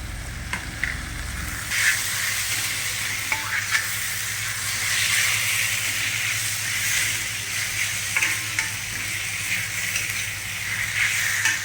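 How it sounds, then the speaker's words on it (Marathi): Large tomatoes fry in garlic and ginger paste for misal, giving a steady, loud sizzle and hiss close by, broken by the scrape and clink of repeated stirring. "आता आपण याच्यात टोमॅटो टाकून घेऊया."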